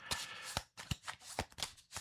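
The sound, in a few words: shuffling a board game event deck of cards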